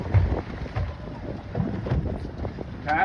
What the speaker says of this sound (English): Wind is not letting up